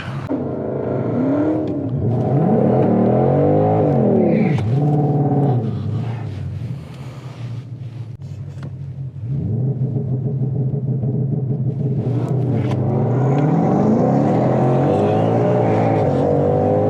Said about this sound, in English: Put it in drag mode and get ready for our line lock.